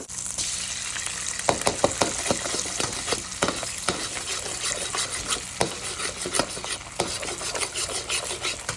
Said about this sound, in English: you start cracking eggs